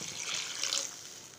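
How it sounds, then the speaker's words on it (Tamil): Half a vessel of water poured into a pan of sautéed mango pieces, a steady splashing gush lasting just over a second, close and fairly loud with no talking. "நல்லா வணக்கினதுக்கப்புறம் ஒரு அரை செம்புக்கு தண்ணி ஊற்றிடுறேன்."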